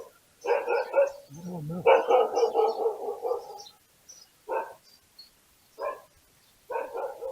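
Several dogs bark in repeated bursts, with a few close yelps and then scattered single barks trailing off, and a brief spoken remark among them.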